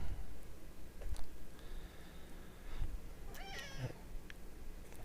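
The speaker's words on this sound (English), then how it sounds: "Oh, got a kitty here that's mad at us." An indoor cat lets out a few quiet, scattered meows, one rising, wavering and agitated, over faint room noise and light handling sounds.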